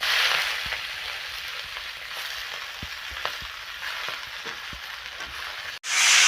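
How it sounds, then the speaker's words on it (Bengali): Malabar spinach hits hot oil with a bay leaf, dried red chilli and whole cumin, giving a constant close sizzle with scattered light stirring taps, cutting off abruptly near the end before the hiss returns. "এখন দিয়ে দেবো এখানে পুঁই শাক।"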